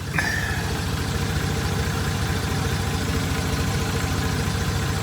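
A pickup truck engine idles steadily and close by, a continuous low rumble with a regular pulsing beat on a cold day, with no one speaking over it.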